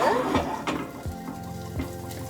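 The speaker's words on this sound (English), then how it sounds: "you're gonna start smelling that the moment that hits the oil and it's sizzling" Curry paste sizzling in hot oil while being stirred in a pot, with a steady frying hiss and several clanks of a utensil scraping and tapping the pan, close and fairly loud.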